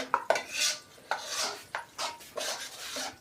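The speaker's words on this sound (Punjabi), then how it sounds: "ਥੋੜਾ ਜਿਹਾ ਹਿਲਾ ਦੂੰਗੇ" Panjiri made of flour, desi ghee and nuts is stirred in a pan with a series of soft, dry scraping strokes and light metal clinks. It sounds fairly quiet and close, with no talking.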